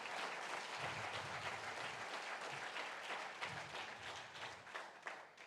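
A church congregation applauds the Lord, steady sustained clapping from many hands filling the room at moderate distance, even and unbroken throughout.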